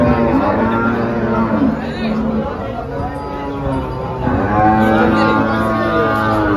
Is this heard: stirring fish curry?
no